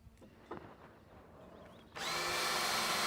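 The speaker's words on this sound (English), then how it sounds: "Now we drill some weep holes in the top aluminum reinforcement, about 3 inches in from the end." A power drill boring weep holes in an aluminum reinforcement rail of an Intex Liberty pool: a few quiet knocks and handling sounds, then a loud, steady high drill whine kicks in near the end and keeps going.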